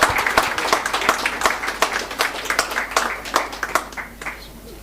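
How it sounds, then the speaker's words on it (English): An indoor audience at a college industry-academia launch event claps steadily and fairly loudly, a dense burst of applause that thins out toward the end. "Round of applause, guys."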